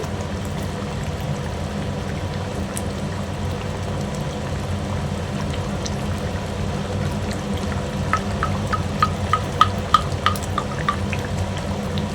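Ghee goes into a simmering soybean bori curry. A low, steady bubbling murmur runs throughout, and a few soft drips and splashes land near the end.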